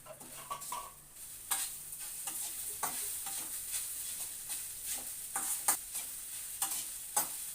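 Sabudana khichdi with a little sugar being stirred in a pan, soft scraping spoon strokes and faint ticks over a low steady sizzle, quiet and without talk.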